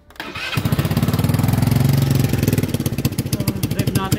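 A motorcycle engine cranks and catches, then settles into a loud, rapid, steady idle with evenly pulsing firing beats close to the listener.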